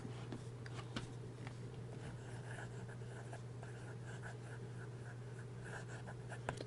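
A medium gold fountain pen nib glides across paper in close, continuous scratchy strokes with short pauses between marks, over a steady low background hum.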